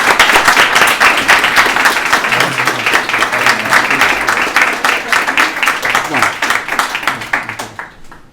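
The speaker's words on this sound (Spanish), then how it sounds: "pues vamos a darle un aplauso" Audience at a Spanish-language talk applauds to welcome the speaker, loud sustained clapping from a room full of people that fades out near the end.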